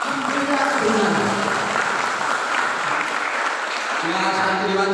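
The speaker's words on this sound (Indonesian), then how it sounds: "santriwan sama santriwati di sini enak saja tepuk tangan" Students at an Islamic boarding school applaud together in a steady, loud burst of clapping that fills the room, with voices mixed into the crowd noise.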